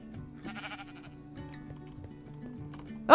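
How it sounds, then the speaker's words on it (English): A sheep in the CheriCraft video game gives a short bleat early on, which sounds faint against quiet background music, and then a louder sound cuts in at the very end. "Oh, there's a sheep on the stairs."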